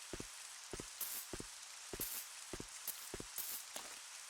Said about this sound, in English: Oh, it's outside and it's raining.